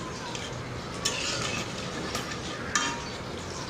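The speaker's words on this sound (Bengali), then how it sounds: "ঝোল দিয়ে আরেকটু নেড়ে চেড়ে নিচ্ছি।" Bitter gourd curry being stirred in a pan after gravy is added: a faint, continuous scraping and bubbling, broken by two light clinks of a spoon against the pan.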